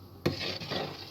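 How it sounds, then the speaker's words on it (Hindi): A spoon stirring flour into pineapple cake batter in a bowl, one sharp clink of the spoon against the bowl followed by soft, close scraping and mixing. "अब मैं थोड़ा थोड़ा करके मैदा डालूंगी और चमचे के साथ मिक्स करूंगी"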